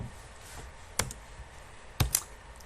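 Computer keyboard typing, a few sparse, sharp key clicks around a soft background hum, with two distinct louder taps about a second apart.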